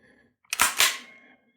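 Ruger PC Carbine trigger reset, two sharp mechanical clicks in quick succession, close and fairly loud in an otherwise quiet room.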